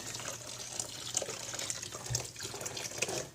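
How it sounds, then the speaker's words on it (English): Water splashes and gurgles steadily for a few seconds, a soft continuous pour with faint drips, fairly close and fairly quiet. "we dump some water on in"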